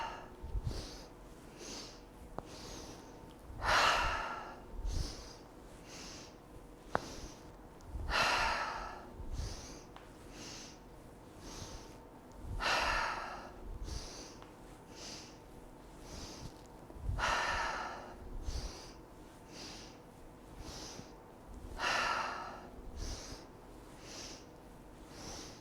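Slow, audible breaths are drawn in and let out during a gentle yoga exercise, each exhale a soft airy rush recurring every few seconds, close and quiet with no talking.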